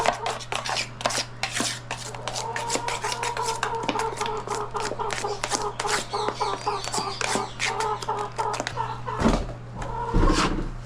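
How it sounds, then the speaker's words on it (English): A chicken clucking close by amid a busy clatter of knocks and taps at a building renovation site, with a steady low hum underneath. "Little chicken."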